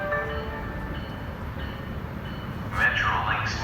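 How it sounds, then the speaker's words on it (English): Metrolink commuter train 684, bound for Laguna Niguel, pulls into a station in Anaheim with a faint low rumble, then a brief horn-like tone near the end. "Alright, here comes Upper Metro 684, Laguna Niguel."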